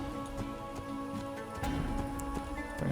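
Horse hooves clopping in the game Assassin's Creed, irregular soft clip-clops over a steady ambient game soundscape with patter like rain, moderately loud and close.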